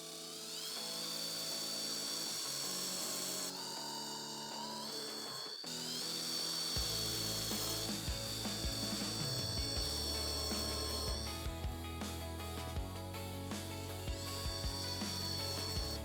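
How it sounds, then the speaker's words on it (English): A power drill bores pilot holes in a wooden table built from cheap store lumber, its whining motor rising and falling in pitch through several short bursts, close and fairly loud with no talk. "Alright, there's all our holes pre-drilled"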